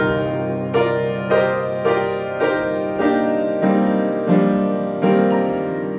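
Piano playing a sad theme from Kingdom Hearts with the sustain pedal held throughout, about eight chord strikes at a steady slow pace whose tones ring on and blur together into a muddy wash, close and alone.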